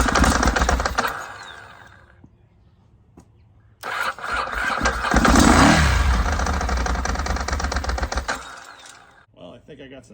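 A Ducati 996 motorcycle engine, long unused and with debris in the exhaust, cranks and catches into a loud, rough running idle with throttle blips, stopping briefly before restarting and running steadily close by.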